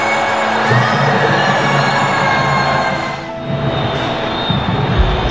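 A stadium crowd roars and cheers after Chelsea score against Palmeiras in a Club World Cup match, a loud, sustained wash of voices that dips briefly midway and then swells again.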